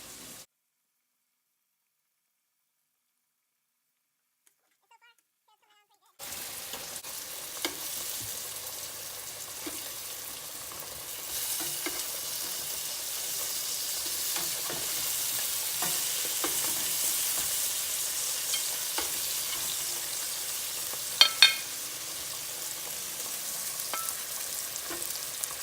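Potatoes and onions fry on a griddle for a quick breakfast with a steady, broad sizzle after about six seconds of near silence, growing slightly louder, with a couple of sharp clicks near the end and no talking.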